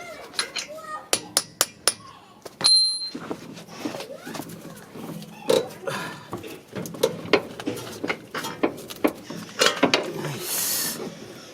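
Sharp metallic hammer strikes ring out irregularly while a CV axle is removed from a 2008 Honda Civic, mixed with clanks and tool handling, and a voice speaks briefly at times.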